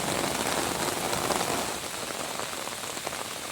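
Heavy rain pours steadily during a severe storm at a homestead, a dense continuous hiss of drops hitting surfaces close by, easing slightly partway through and then holding at a constant level, with no voices.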